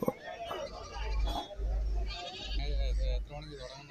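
At a Kerala goat market, male goats and kids bleat several times among nearby voices and general crowd noise.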